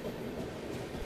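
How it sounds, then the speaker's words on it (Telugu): The New Delhi–Hyderabad Telangana Superfast Express passes near Kazipet Junction as a steady, loud rumble of rolling wagons. The rumble is continuous and has no pauses. "Telangana super fast express"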